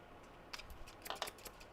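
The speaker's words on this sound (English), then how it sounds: "So next we're going to take a pair of scissors" A pair of scissors snips through paper at a crafting table, cutting out a stamped holiday design: several quiet, crisp snips in an uneven rhythm, close but faint, with no talking.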